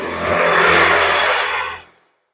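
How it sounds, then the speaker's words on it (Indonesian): A Honda Vario scooter engine runs with a smooth, steady whir at close range for under two seconds, then cuts off abruptly into silence. "ini mesin sudah halus ya"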